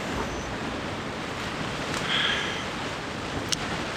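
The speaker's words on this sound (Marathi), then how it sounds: "तुफान पाऊस सुरू आहे बाहेर" Heavy rain pours outside a tent at a campsite in a monsoon storm, a dense, continuous hiss with a couple of faint higher blips and no talking.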